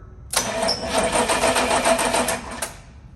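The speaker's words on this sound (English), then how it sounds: "battery's definitely low, but it will turn that engine over" A 1994 Chevrolet W4 pickup engine cranks over steadily on a remote starter button off a low battery, a loud, even churning rhythm for about two seconds before it cuts out.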